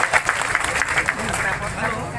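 Applause at an All Odisha Scheduled Caste Federation meeting welcoming a guest: a crowd claps in a steady, moderate patter with a murmur of voices underneath.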